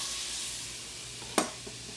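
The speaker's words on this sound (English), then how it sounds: "we put a couple of tablespoons of butter in the skillet because we're going to cook our mushrooms" Mushrooms fry in butter in a skillet with a soft, steady hiss, cut by one sharp clatter of a utensil and a fainter tap just after.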